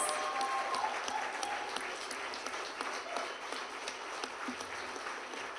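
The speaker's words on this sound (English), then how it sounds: "I think we need a bigger applause for the man" Steady applause from a large crowd at a speech, dense clapping that holds at an even level throughout without breaks.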